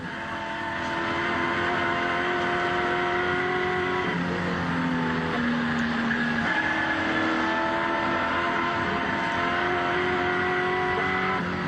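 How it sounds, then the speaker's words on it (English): Peter Brock's race car engine at Bathurst 1986 roars steadily from inside the cockpit, its pitch dropping and climbing again through gear changes, loud and continuous. "Gear change for Peter Brock as he moves up to Toledo Tools' turn"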